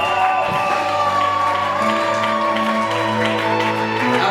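A church congregation cheers and acclaims loudly, a steady dense wash of crowd voices, whoops and shouts filling the space with sustained tonal singing-like lines running under it throughout.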